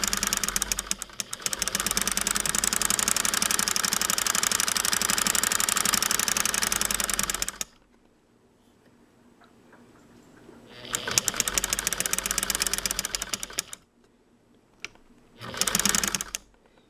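A sewing machine set to 8 stitches per inch stitching a newspaper quilt, loud rapid mechanical whirring in three runs: a long burst, a pause, another several-second burst, then a short final one.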